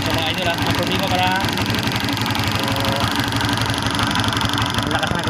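A motorcycle with a faulty ignition switch idles in a repair shop, a steady, loud, rhythmic putter with someone talking over it.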